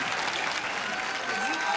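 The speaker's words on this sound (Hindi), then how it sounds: "एक बार जोरदार तालियां" Studio audience applause on The Kapil Sharma Show, a comedy show: a short, dense burst of many hands clapping, steady and fairly soft.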